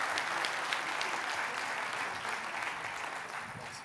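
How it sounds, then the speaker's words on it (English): Conference audience at a talk on stablecoins at DuneCon 2024 applauding, a sustained even patter of many hands that slowly fades toward the end. "So one more round of applause for Noah."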